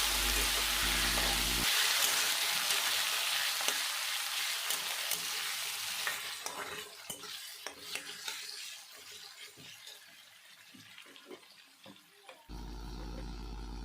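Chopped tomatoes hit a pan of frying onions and whole spices for masala chicken, a loud hissing sizzle at first that settles into a quieter crackle with occasional spoon scrapes and clicks, close by with no speech.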